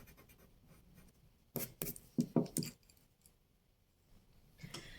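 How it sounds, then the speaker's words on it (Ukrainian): Rubber eraser wiping pencil lines off paper in a children's drawing lesson, a few short scratchy rubbing bursts close by, quiet, with pauses between them. "І тепер ось ці дві зайві лінії я також стираю резинкою."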